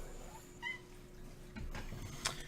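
A quiet house cat gives a few faint meows early on, followed by soft rustling and a brief knock, all at low level against a faint steady hum, with no talk.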